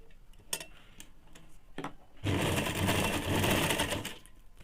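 A sewing machine runs a fold-over seam along a ladies' pant belt: a few short ticks first, then a loud, steady close-up whir for about two seconds before it stops.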